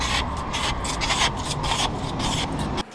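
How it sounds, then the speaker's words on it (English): Steady scrubbing and rubbing across a shop window pane as vinyl graphic residue is washed off, a continuous close rasping wipe with rhythmic strokes that stops abruptly near the end. "I'm going to have to wash the windows because it's got this residue from what looks like some vinyl graphics or something"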